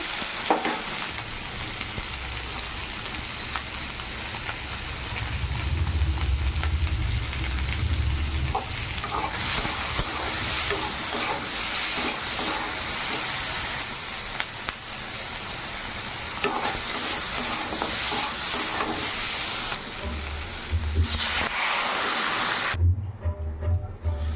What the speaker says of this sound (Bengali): লবণ হলুদ দিয়ে ভালো করে আলুটাকে কষিয়ে নেবো